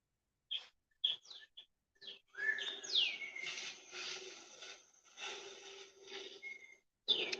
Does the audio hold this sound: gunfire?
no